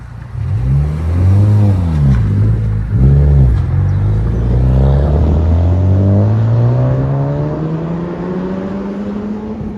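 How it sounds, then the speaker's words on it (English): A Honda Civic Type R fitted with a Remark titanium exhaust is revved up close, with a couple of quick, loud blips followed by a long, rising rev that fades as it settles. "The Civic Type R with a Remark TI system."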